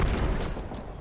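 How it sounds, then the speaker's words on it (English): A grenade blast in the video game Apex Legends sounds as a short, dense burst of rumbling, crackling explosion noise that fades slightly over about a second. "Oh, that was a good nade."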